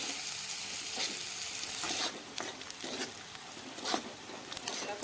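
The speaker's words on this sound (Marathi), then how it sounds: "कांदा हा छान असा परतलेला आहे सोनेरी रंगावर." Chopped onion sautéing to golden with cumin in a pan, a steady close sizzle and crackle, with a few stirring scrapes breaking in after a brief drop in the frying noise.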